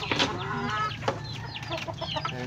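A flock of hens clucks nearby, a few sharper calls standing out from the steady chatter over a low background hum.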